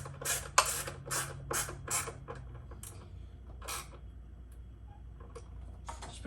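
Screws are threaded back onto an oil catch can fitting on a BMW 335i, with a series of crisp close ticks and clicks in an uneven rhythm over a low steady hum.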